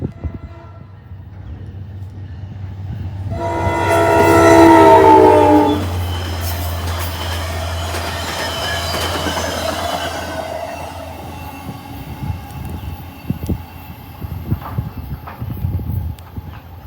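A VRE commuter train horn blares loudly for a couple of seconds as the train passes nearby, followed by the rumble and clatter of rail cars rolling by.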